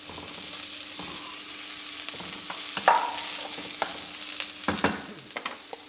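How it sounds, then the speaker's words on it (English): Continuous sizzle of chicken frying in a pan, punctuated by scraping and stirring clatters, no voices. "So I'm going to add in the chicken now."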